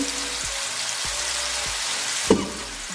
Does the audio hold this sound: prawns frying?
yes